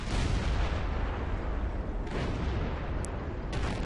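A Jagdpanzer E 100 tank destroyer's gun fires in World of Tanks battle audio: loud, rumbling blasts with sudden broadband onsets that stand out from a constant engine and battle roar.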